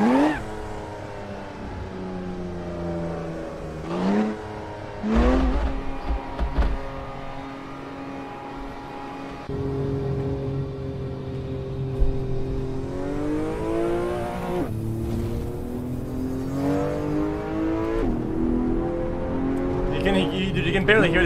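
A race car in the Assetto Corsa racing game, its engine revving up and dropping through gear changes with rising and falling whine, loud and close, with a voice talking over it at times.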